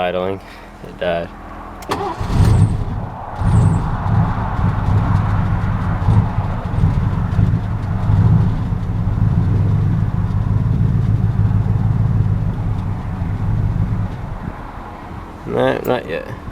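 A Town Car convertible's engine cranks and catches, barely idles roughly and low for several seconds, then stalls; a person speaks briefly before and after.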